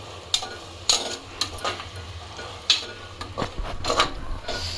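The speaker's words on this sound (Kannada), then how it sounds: "ಸ್ಮ್ಯಾಶ್ ಆಗೋವರೆಗೂ ಫ್ರೈ ಮಾಡ್ಕೋಬೇಕು" Tomatoes frying in a pan for a home-cooked chicken biryani, with a soft background sizzle broken by scattered sharp clicks and scrapes of a spatula stirring against the pan, at moderate volume with no voices.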